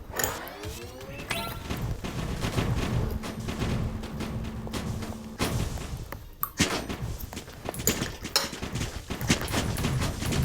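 Dense bursts of game gunfire and impacts fill the scene, sharp cracks and thuds overlapping with clattering mechanical effects throughout.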